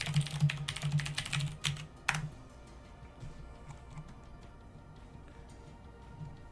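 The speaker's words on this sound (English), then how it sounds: "let me also type it out" Rapid clicking of keys on a computer keyboard, a quick burst of close, crisp taps over the first two seconds, then a soft low hum with only faint scattered ticks.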